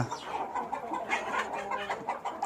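Hens cluck in a steady stream of short, overlapping calls, fairly close, with a busy, continuous feel.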